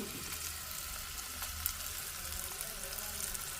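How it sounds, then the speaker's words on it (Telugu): Mustard-seed tempering and crushed garlic fry in a pan for an instant tomato chutney, giving a faint, steady sizzling crackle throughout with no voices. "సో చూడండి పోపు వేగుతుంది కదా కొంచెం వేగింది"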